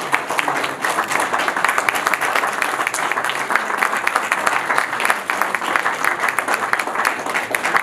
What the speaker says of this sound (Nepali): यसप्रति सम्पूर्णबाट ताली बजाएर एकपटक सम्मान व्यक्त गरिदिनु भएको हुनुहुन्छ।